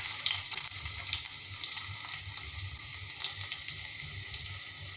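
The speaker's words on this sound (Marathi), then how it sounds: "आपला कांदा छान असा खरपूस भाजीपर्यंत मी छान असा शिजू देणार आहे" Onion frying in a pan for a restaurant-style veg Kolhapuri, a steady close hissing sizzle that continues throughout with occasional faint stirring, no voices.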